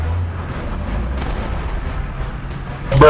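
Tank cannon fire from the 120 mm gun of an American M103 heavy tank in the video game War Thunder, heard as a steady low engine rumble ending in a sudden loud, sharp blast near the close.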